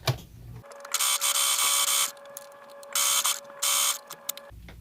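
Sewing machine stitching all the way around a face mask, close and loud, in two long bursts of steady whirring with short pauses and a quieter hum between runs.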